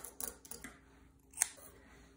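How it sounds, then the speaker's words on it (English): Scissors snip through soft quarter-inch stretch elastic fabric, several quick close cuts early on, then a single sharp snip after a pause. "take some 1/4 inch soft stretch elastic fabric and cut about 13 inches"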